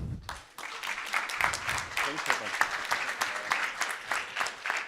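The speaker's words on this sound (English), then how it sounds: "So you are welcome to give Frederick a huge applause" Audience at a journalism conference talk applauds a speaker with dense, steady clapping that swells after a brief dip and holds loud and close for several seconds.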